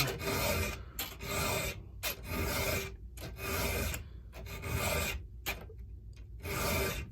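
A hand file sharpens a chainsaw chain's cutting edge in repeated rasping strokes, about nine close, loud scrapes in a steady back-and-forth rhythm with short gaps between.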